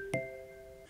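A single short, bright iPhone Milestone notification chime from iOS 17, with a quick percussive onset and a sustained ringing tone that fades within a second.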